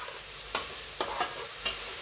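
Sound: stirring grated tomatoes into bottle gourd curry

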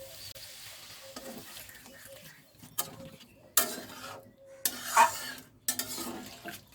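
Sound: coconut milk poured and stirred into cooking yam and prawns

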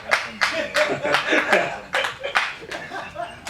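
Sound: audience clapping at press meet

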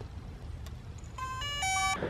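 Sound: DJI Mavic Pro drone power-on beep

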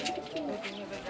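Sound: pigeons cooing

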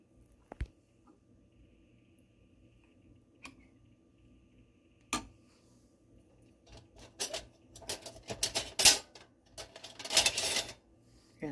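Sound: opening a can of diced tomatoes

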